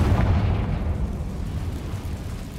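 A Confringo fire spell explodes in the Hogwarts Legacy video game, a heavy booming burst that rumbles loudly at first and then slowly fades over a couple of seconds.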